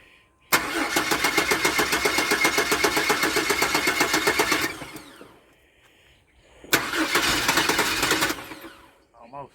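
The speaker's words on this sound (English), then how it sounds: "She's fixing to start, guys." A project truck's engine cranks with a rapid rhythmic chug for about four seconds, pauses, then cranks again in a second long burst that fades without catching firmly.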